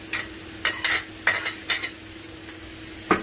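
Bell peppers being stirred into a hot pan for a mashed-potato béchamel casserole: soft frying sizzle under a series of sharp utensil scrapes and taps, close and fairly quiet.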